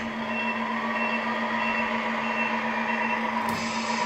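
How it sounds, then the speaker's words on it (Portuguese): A white Scania R620 truck idles steadily and loud while reversing, with a continuous engine hum; the reversing beeps blend into the drone rather than standing out clearly. "Daí você pega, dá uma ré."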